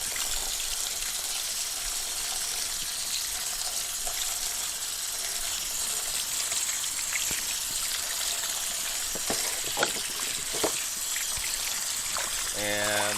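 Water runs and trickles as the parts of a Weston Deluxe electric tomato strainer are rinsed, a steady stream with a few clattering knocks and clicks of plastic pieces near the end.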